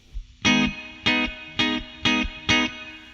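Electric guitar through a Joyo Atmosphere reverb pedal with the mix knob at 12 o'clock, five loud strummed chords in an even rhythm, each briefly ringing and cut short, heard alone.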